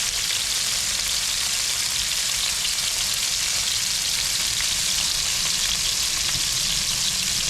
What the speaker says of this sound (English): So I'll let them sizzle for a second.